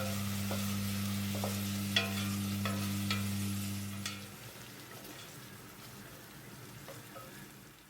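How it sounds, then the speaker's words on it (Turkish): Steady sizzling of onions frying in butter in a pan, with a low hum in the first half and occasional soft clinks of stirring. "Tereyağını da ekledikten sonra 4-5 dakika kavuruyorum."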